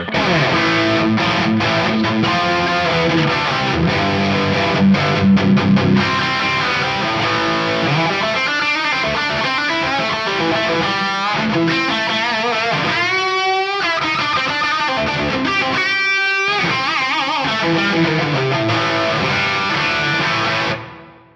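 A distorted electric guitar plays chords and riffs washed in heavy reverb, notes ringing out and trailing into long tails before fading at the end.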